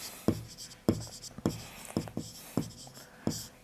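A pen or pencil marks paper in a maths lesson. Six or seven short, sharp strokes tap out at a steady rhythm close by, with faint breathy sounds between them.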